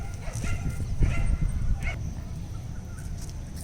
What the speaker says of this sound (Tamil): நாய் ஒரு பக்கம் குலைக்குது